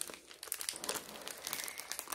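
A purple plastic bag from a Heaven & Earth Designs package crinkles as it is being opened, with continuous soft rustling and crackling, close but quiet.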